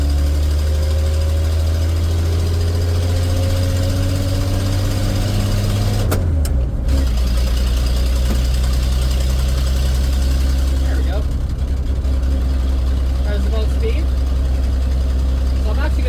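A 1976 Ford F250 with a glass pack muffler idles with a deep, loud rumble, then gets a brief rev around the middle before settling back to a steady throb; someone talks over the engine throughout.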